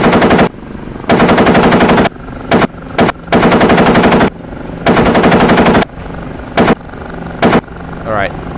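A Kiowa helicopter's gun firing in a video game, loud sustained automatic bursts of varying length separated by short pauses, over a steady rotor drone, with a voice talking at times.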